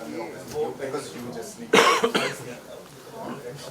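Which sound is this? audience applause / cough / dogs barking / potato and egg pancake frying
cough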